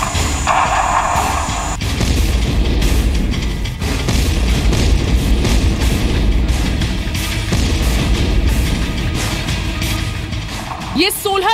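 Artillery blasts destroy Pakistani military posts, heard as a dense run of heavy, rumbling booms and crashes that keep landing one after another, with a voice talking over much of it.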